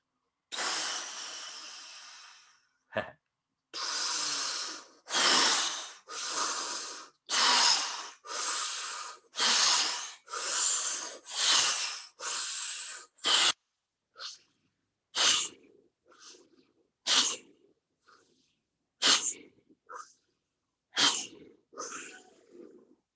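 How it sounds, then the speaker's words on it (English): Rhythmic forceful breathing exercise in a bedroom: a long exhale, then about ten loud, evenly spaced sharp breaths, followed by a series of shorter, quieter puffs and snorts with pauses between them, with no talking. "Let's do one more round. 9 warriors breath, and then our Tumo breath."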